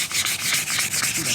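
Lacquer on Classic Mini car paint being rubbed down by hand, a steady rhythmic back-and-forth abrasive rasp, close and continuous with no voices.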